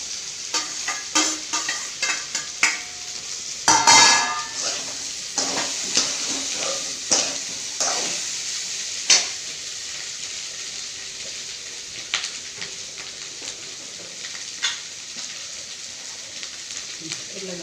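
Onions, with potatoes added partway, fry in a home kitchen pan while being stirred, giving a steady sizzle broken by repeated scraping strokes of a spoon against the pan, near and clear.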